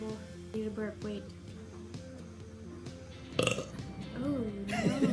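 A person lets out a burp partway through, a short, rough belch in a quiet room following soft vocal sounds and breathing.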